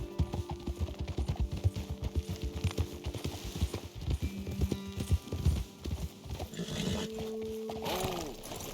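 Steady clip-clop of horse hooves trotting at a brisk rhythm in Red Dead Redemption 2, fairly close, with a short whinny and some game ambience toward the end.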